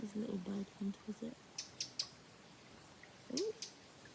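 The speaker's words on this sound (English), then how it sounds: "There's a little bird come to visit." A small bird chirps a few times, giving short, faint, high tweets close by amid a quiet room, following a spell of soft indistinct talk.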